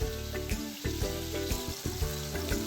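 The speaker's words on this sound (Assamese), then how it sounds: "এতিয়া দি দিয়া হৈছে এইখিনি পিঁয়াজ তাৰপিছত অলপ লৰাই দিয়া হৈছে" Chopped onions frying in a pan for a home-style Assamese fish dish and being stirred, a steady sizzle broken by repeated scraping strokes about every half second, close and fairly loud.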